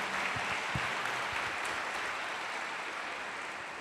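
Guests at a church wedding ceremony clap together, a faint, diffuse patter of applause heard from a distance for a few seconds against a steady hiss.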